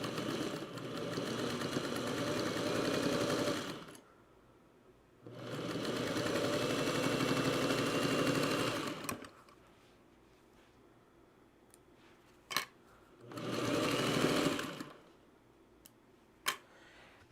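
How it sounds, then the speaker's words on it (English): A sewing machine stitching a quarter-inch seam along the raw edge of quilt fabric, running in three steady whirring bursts separated by pauses, with a few sharp clicks between runs and no talk. "Line up the raw edge of my fabric, come over and stitch with 1/4 inch."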